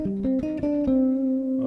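A short classical phrase on bass guitar, a handful of clear, sustained notes stepping down then settling on a long held tone, played alone and close.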